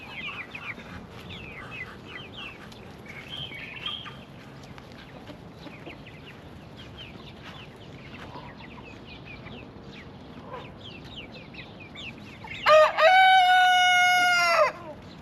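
Backyard chickens cluck softly and steadily throughout, and near the end a rooster breaks in with a loud, close crow lasting a couple of seconds.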